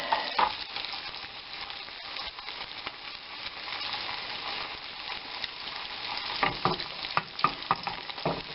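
Sole fillets fry in butter in a pan, a steady close sizzle with occasional stirring and crackling bursts throughout, no voices.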